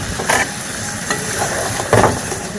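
Gravy bubbles in a pan with curry leaves and green chillies, making a close crackling sizzle with a few sharper spurts.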